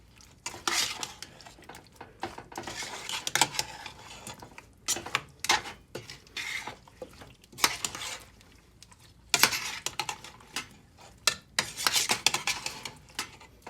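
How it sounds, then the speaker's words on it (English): Sliced potatoes being stirred and tossed with cream in a bowl for scalloped potatoes, giving repeated wet scraping and clinking of a utensil against the bowl in irregular bursts, close and fairly quiet. "we're going to mix these together. Get that cream all over those potatoes."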